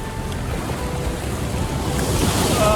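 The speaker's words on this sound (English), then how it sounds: "Sometimes there's really big waves and it just smashes right up." Ocean surf washing against rocks on the coast at Wallaga Lake, a continuous loud roar of waves mixed with gusty wind buffeting the microphone, with no voices.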